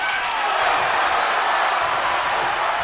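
Arena crowd in the WWE 2K25 wrestling video game, a steady broad roar of cheering that holds at even loudness throughout, with no voices standing out.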